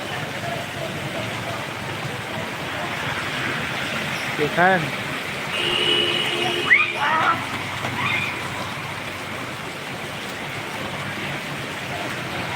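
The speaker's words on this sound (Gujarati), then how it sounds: "એટલે પેલું ઝૂમિંગ કરીને બતાવીએ તો ખબર પડે કે કેવો વરસાદ છે. ફૂલ જ વરસાદ છે." Heavy rain pours steadily over a waterlogged road in the Hirwadi area of Ahmedabad, a dense, continuous hiss close to the microphone, with someone speaking briefly partway through.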